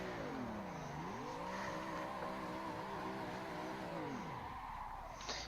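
A car drifting in Assetto Corsa, a racing video game: an engine holds a steady high drone, its pitch dipping and climbing as the revs shift, then it drops away near the end. The sound is constant, with no speech.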